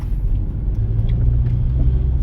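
A car on driving-test exam route No. 8 in Sofiivska Borshchahivka, heard from inside as it drives and turns. A steady, close engine and road rumble runs throughout with no talking.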